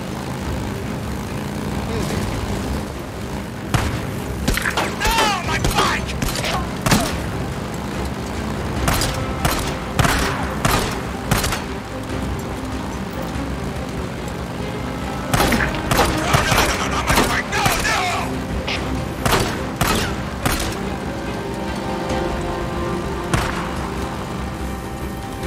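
Gunfire aimed at a Drifter in the video game Days Gone, shots cracking out in repeated bursts and clusters over a steady engine drone, with someone talking throughout.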